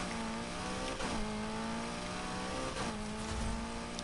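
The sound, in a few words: BMW with McLaren 3.9-liter twin-turbo V8 engine, video game Need for Speed Heat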